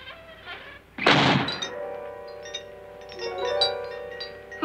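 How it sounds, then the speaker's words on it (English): A heavy solid-steel door slams shut in a radio-play sound effect, one sharp loud bang followed by a lingering tonal musical background with eerie sustained notes. "Who closed the door?"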